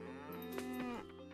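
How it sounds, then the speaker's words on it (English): A cow in the Coral Island farming video game lets out one long, loud, close moo that holds steady and then tapers off, with no talk over it. "Good cow."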